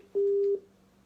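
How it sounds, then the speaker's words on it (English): A single steady telephone tone sounds on a call, one continuous beep of about half a second, clear and close with no talk over it. "Your phone is ringing if you're hearing."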